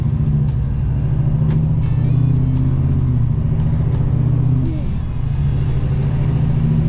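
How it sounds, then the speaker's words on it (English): Ford Powerstroke 6.7 diesel truck with a 650 whp tune, 2023–2025 model, pulling out of a shop and driving, a steady low engine rumble close to the microphone with faint clicks above it. "I got the truck out of the shop"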